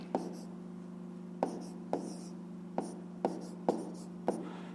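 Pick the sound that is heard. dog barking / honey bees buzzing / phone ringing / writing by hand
writing by hand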